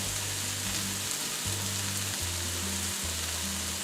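Diced ham sizzles and fries in a pan for a broccoli and ham quiche, a steady close hiss with a low hum running underneath and no voices.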